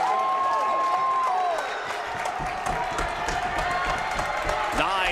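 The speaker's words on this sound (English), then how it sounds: "Listen to the Bismarck High crowd in the Magic City tonight. They are full of volume with a 6-point lead for the Demons." A high school basketball crowd at Bismarck High's away game in Minot roars and cheers in the gym, a loud continuous wall of voices and clapping with sneaker squeaks from the court cutting through.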